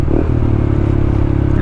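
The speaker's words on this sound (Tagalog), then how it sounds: "Yan, engine brake lang." A Honda ADV150 scooter engine-braking down a steep hill gives a steady, close, low mechanical drone with a faint rattle throughout.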